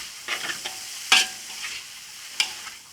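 Noodles with green onions are stir-fried in a pan, giving a soft steady sizzle broken by a few sharp scrapes and clinks of the spatula against the pan, two of them clearly louder.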